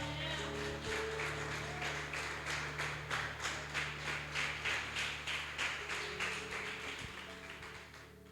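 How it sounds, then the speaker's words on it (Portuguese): A congregation at a church worship service claps steadily for several seconds, the applause rising and then gradually thinning out, heard from some distance. "Você pode aplaudir a Deus?"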